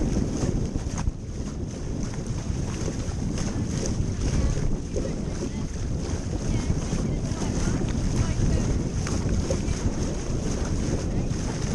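A Wayfarer sailing dinghy tacks through moorings in a yacht club race, with constant wind buffeting the microphone, a rushing water wash and flapping rigging all blended into a loud, unbroken roar.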